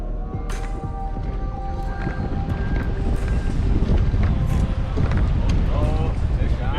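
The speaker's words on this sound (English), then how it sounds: "Mille Lacs is big and it's super windy out" Strong wind buffets the microphone on a boat fishing a big lake (Mille Lacs), a steady broadband roar that builds through the stretch, with faint creaks and knocks from the boat underneath.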